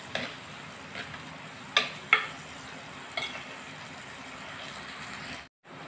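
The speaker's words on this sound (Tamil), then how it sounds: "இது நல்லா வதக்கி எடுக்கலாம்." Shallots, garlic, green chilies and curry leaves being sautéed in a pan for a Chettinad fish curry, a soft steady sizzle with a few sharp ladle clicks and scrapes against the pan.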